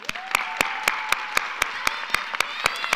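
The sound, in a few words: audience round of applause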